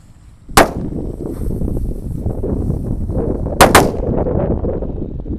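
Four gorilla firecrackers lit together explode with a loud crack, then a rumbling, noisy stretch, then a double bang close together, with no voices.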